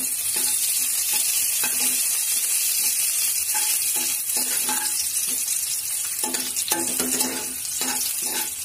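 Curry leaves crackle and sizzle in hot oil for a Maharashtrian stuffed brinjal masala dish, with steady frying hiss and repeated utensil stirring scrapes in the pan throughout.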